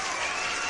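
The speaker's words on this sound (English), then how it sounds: "can I get an applause for Road Dog?" A crowd at a live trading Q&A session claps steadily, a dense, even burst of applause heard close and on its own.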